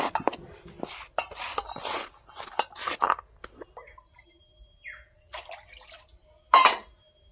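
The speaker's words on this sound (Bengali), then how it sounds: "মাংসটা ধুয়ে নেই।" Pieces of clean young goat mutton are washed by hand in water, with close, intermittent splashes and sloshes in short bursts separated by quiet gaps.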